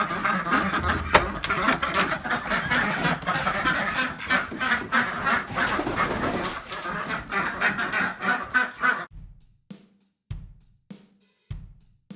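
Several geese honk repeatedly in a busy, overlapping chorus heard from a short distance, then the calls drop away into near silence with only a few isolated honks near the end.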